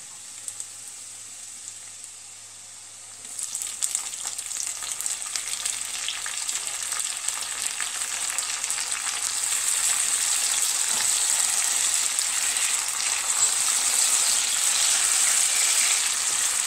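Tomatoes and peppers sizzle in a hot pan, a quiet start giving way to a steady, crackling fry that grows louder and fuller.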